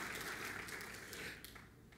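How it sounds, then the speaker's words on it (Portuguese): A church congregation applauds during a sermon, a faint, distant wash of clapping that holds steady and then thins out toward the end. "Obrigado por esse aplauso."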